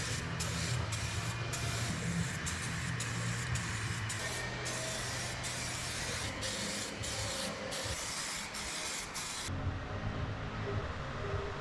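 A spray gun laying down clear coat on a car in a paint bay, a continuous close hiss with brief pauses between passes, running steadily for several seconds before cutting off.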